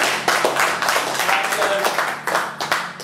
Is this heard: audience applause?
yes